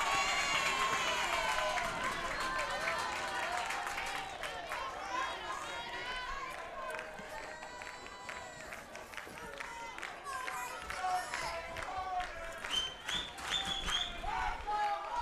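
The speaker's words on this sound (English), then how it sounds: "Well, this crowd is really excited." Excited crowd at a college baseball tournament game between Alabama State and Florida A&M, cheering, clapping and chattering loudly over about fifteen seconds, with the roar swelling and easing in waves and voices mixed throughout.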